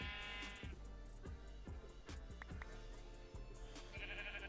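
Sheep in Minecraft bleat a few times in quick succession, with steady game sounds underneath and no one speaking.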